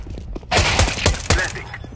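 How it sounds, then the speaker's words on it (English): A flashbang grenade goes off in a Counter-Strike match on the Mirage map, with one loud, close blast followed by a short ringing, crackling burst that quickly fades. "Deploying flashbang."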